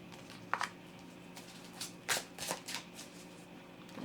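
A tarot deck is shuffled by hand for a reading, with several short papery riffles and soft card flutters at close range, fairly quiet against a still room.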